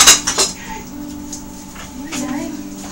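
Utensils and dishes clatter into a kitchen sink during lemon cake baking, with a few sharp clinks near the start, then softer handling under nearby talking.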